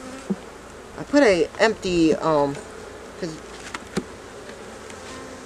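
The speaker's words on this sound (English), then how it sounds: "the bees are getting a little agitated." Agitated honey bees buzz steadily around an open hive during a fall inspection, a close continuous drone running beneath a person's speech.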